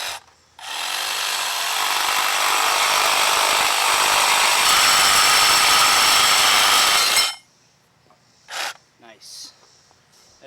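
Milwaukee saw fitted with a Harbor Freight blade cutting through thick pipe, a loud continuous grinding whine lasting about seven seconds, then stopping abruptly, followed by a few short clinks and scrapes.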